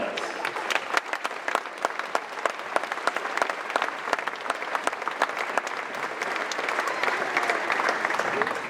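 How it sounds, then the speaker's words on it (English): A crowd of families applauds at a US Army basic training graduation at Fort Benning, Georgia, steady dense clapping lasting throughout at moderate distance, with no voices standing out. "Ladies and gentlemen, please join us in giving these great Americans a round of applause."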